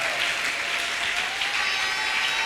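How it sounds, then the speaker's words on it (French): A French-speaking church congregation at a Sunday morning service breaks into sustained applause, a thick, even wash of many hands clapping close by, unbroken for the few seconds heard. "tu l'exprimes avec des acclamations à la gloire du Seigneur"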